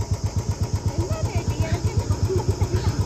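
A motorbike engine idles close by in a quick, even chugging pulse, loud and steady after starting up.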